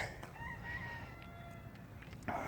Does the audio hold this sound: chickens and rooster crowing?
yes